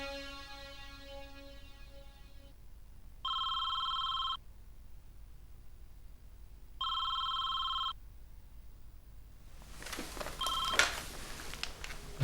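Telephone rings in a quiet room: a tone fading out, then two distinct electronic rings about four seconds apart, followed by the handset being picked up with rustling.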